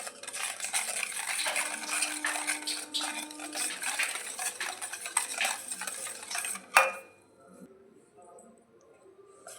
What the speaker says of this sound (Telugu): ఉండలు కట్టకుండా బాగా కలుపుకోవాలి.